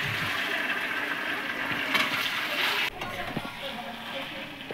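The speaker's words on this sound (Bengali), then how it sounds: "তো এই দেখো চিকেন কষাচ্ছে এখন।" Chicken cooks and is stirred in a home kitchen pan as it is reduced down, a quiet continuous sizzle with occasional scraping, fairly faint and steady with no speech over it.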